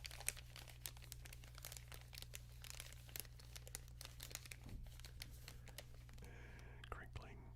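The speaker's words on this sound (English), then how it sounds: "And crinkling and whispering." Soft, close crinkling rustles continue throughout over a low steady hum, mixed with quiet whispering that runs along underneath.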